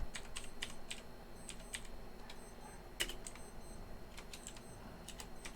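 Computer keyboard keys tapped in short bursts while a command is typed into a Windows command prompt, with clusters of quick keystrokes separated by pauses over a faint steady background hum.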